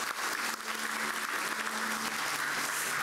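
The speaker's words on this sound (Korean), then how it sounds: "우리 같이 한번 박수로 축복하겠습니다" Church congregation applauding during a Sunday worship service, a dense, steady wash of clapping that holds evenly for about three seconds with a faint low hum underneath and no talking.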